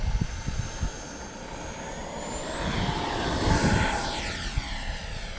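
FlyFans L-39 64mm electric ducted-fan RC jet taking off, a steady rising whine that swells as it passes by outdoors, heard alone without speech.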